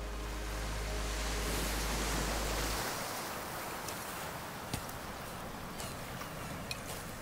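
Ocean surf washes onto a beach at low tide in a continuous, broad hiss of waves, with a deep rumble underneath for the first few seconds and a few faint ticks later.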